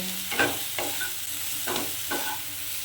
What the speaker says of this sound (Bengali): এবারে আমি ভালো করে এটাকে কষব